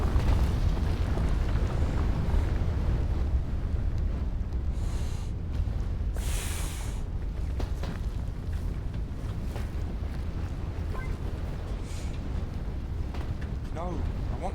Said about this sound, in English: This tornado literally just got me.